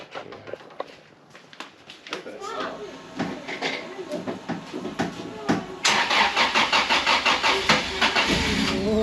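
A street and track drift car's engine cranks with rapid rhythmic churning, then catches and settles into a loud rumble; people talk over it near the start.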